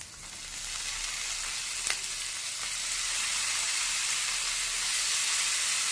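Spices crackling in hot oil as a tempering for sambar, a steady close sizzle and hiss with one brief sharp pop partway through and no voices.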